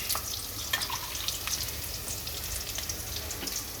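Tengra fish cooking in a pan with onion and mustard gives a close, steady sizzle with bright crackling pops and some watery bubbling, and no voices are heard.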